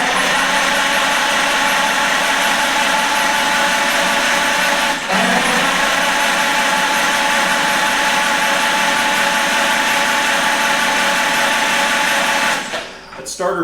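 A Farmall H tractor engine with its spark plugs removed cranks over on the starter for pre-lube, a loud, steady mechanical whir that runs for about twelve seconds and then stops.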